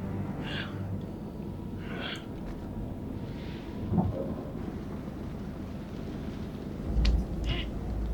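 A thunderstorm rumbles in the horror video game Man of Medan, with a continuous low wash of rain and wind and two brief heavier thunder swells partway through.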